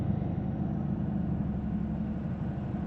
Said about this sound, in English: I'm gonna idle, put enough pressure, get it up to about 1500 RPM